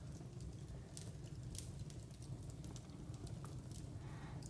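Wood fire burning in a Dutch-style kitchen fireplace, a lower firebox stacked like a Russian stove, giving a steady low roar with scattered soft crackles and pops throughout, fairly quiet and close, no voices.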